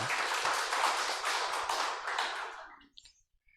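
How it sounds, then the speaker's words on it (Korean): A church congregation applauds during a Sunday service, a dense burst of clapping that holds for over two seconds and then fades out, leaving a few faint taps. "박수하도록 하겠습니다."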